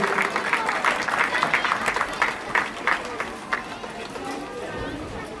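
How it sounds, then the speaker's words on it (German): An audience at a youth under-10 blitz chess tournament claps for a team, a dense patter of many hands that tapers off into scattered claps, with voices talking over it. "Einen kräftigen Applaus für dieses Team."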